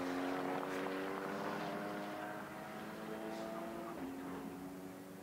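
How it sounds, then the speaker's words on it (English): GT4 race cars cross the timing line at the Nurburgring, a steady, fairly distant engine drone that holds and slowly fades. "the GT cars make their way over the timing line to take the checkered flag"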